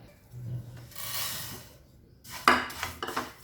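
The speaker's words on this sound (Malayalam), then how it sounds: "ചെറിയ തീയിൽ വെച്ച് ഒരു ഗോൾഡൻ കളറാവുന്ന വരെ നമുക്കിന്ന് വറുത്തെടുക്കാം" Vermicelli is roasted in a pan over a low flame until golden for semiya upma, with a spoon scraping and stirring in quiet, intermittent strokes close by.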